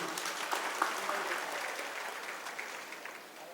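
Applause at a Tamil public function attended by film figures and a speaker, a sustained, fairly distant patter of many hands clapping that slowly tapers over a few seconds.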